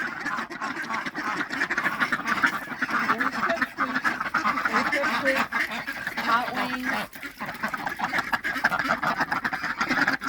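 Several ducks quack steadily and fairly close in a wet enclosure, with a voice speaking over the continuous flock noise.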